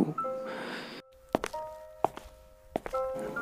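Footsteps as a horror-story sound effect: several sharp, distinct steps at an uneven pace, fairly close, with an eerie droning tone behind them and no talk.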